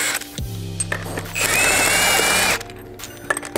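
Power drill spinning lug nuts off a Dodge R/T wheel: a close, loud whirring run lasting about a second, with clunks and brief mechanical noises before and after.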